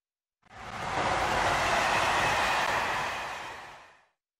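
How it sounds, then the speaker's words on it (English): A passenger train rushes past with a broad, whooshing roar. The sound swells quickly, holds for about three seconds and then fades away, with no voices. "Passenger train."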